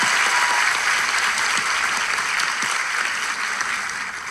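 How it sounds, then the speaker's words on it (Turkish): A dense burst of audience applause, loud and sustained, fading slightly toward the end with no voices over it. "coşkulu alkışlayalım mı"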